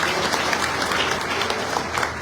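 Loud, dense applause fills a Congress party workers' gathering, a steady wash of many hands clapping without a break, with no clear voice standing out.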